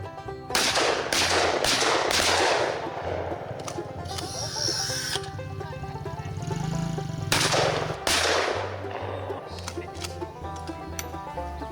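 Rapid bursts of gunshots fired at outdoor targets crack loudly in quick succession, with pauses between volleys and people talking in between.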